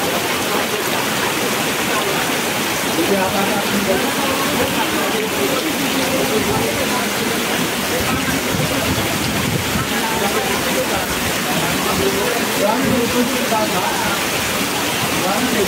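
Heavy typhoon rain from Typhoon Carina pours down steadily in a flooded neighborhood, a dense continuous hiss and rush of water lasting throughout, with voices mixed in.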